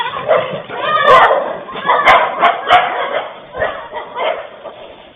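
Stray dogs bark and yip on the streets of Kumbakonam, a rough chorus of repeated barks and whimpers at mid distance, fairly loud, mixed with general street noise.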